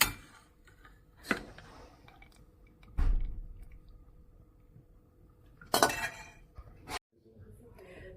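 A metal skimmer clinks against a pot while lifting out pine mushrooms boiled for about fifteen minutes, giving a few sharp, separate knocks spaced across several seconds over a quiet kitchen background.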